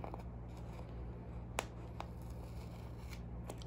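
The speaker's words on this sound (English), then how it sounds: "And we're still ripping paper" Paper being pulled and ripped off an oil pastel artwork gives soft, crackly tearing with a few sharp ticks, faint and close over a steady low hum.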